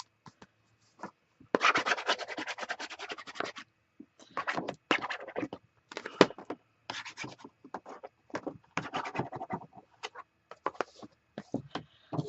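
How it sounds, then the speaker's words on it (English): Taped chipboard paper is burnished by hand with close, quiet, scratchy rubbing strokes. The strokes come in irregular bursts with short pauses between them, and no voice is heard. "We still need to burnish this, even though there's tape on the other side."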